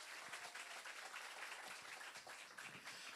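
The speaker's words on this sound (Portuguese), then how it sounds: "Uma salva de palmas para a mãe Suelaine, né?" Audience applause for Mother Suelaine at a Candomblé community event, a steady, dense wash of clapping heard at a moderate distance, continuous and even throughout with no voices over it.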